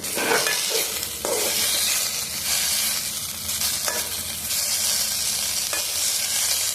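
Potato pieces fry in a pan while a utensil stirs them. A loud, continuous sizzle carries several distinct scraping and clattering strokes of the stir.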